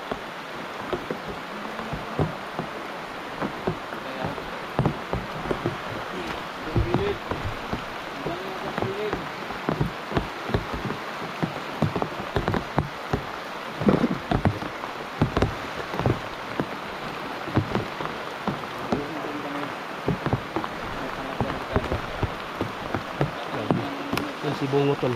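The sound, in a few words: heavy rain falling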